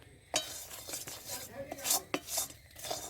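A spoon scrapes and clinks against a pan while stirring thick melted jaggery syrup for chirer moa. The close, irregular metallic scrapes and taps repeat over a soft background hiss, with no talking.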